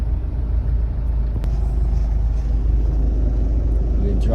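An Isuzu Crosswind moving slowly in first gear during a driving lesson, its engine a low, continuous rumble heard from inside the cabin, with a faint voice in the background.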